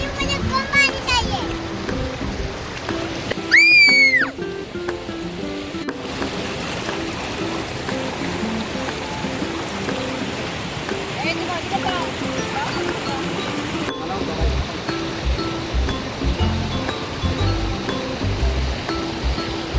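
A shallow river stream flows in summer with more water than expected, a continuous bright rushing babble, with a voice and other voices heard faintly over the water.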